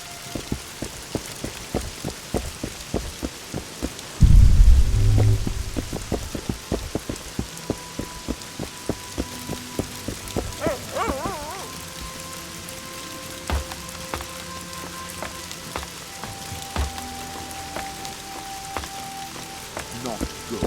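Steady rain patters throughout in The Witcher 2, a dense, even hiss of falling drops with a brief louder thump partway through and faint game sounds underneath.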